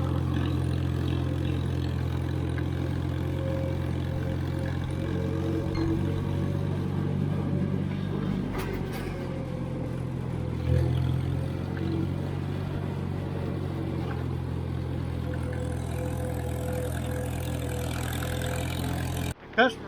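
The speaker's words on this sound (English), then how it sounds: "Anything can happen with a 64-year-old tractor." A 64-year-old Farmall 350 tractor engine runs steadily while backing a hay wagon, a constant low idling drone close by, with a person talking over it.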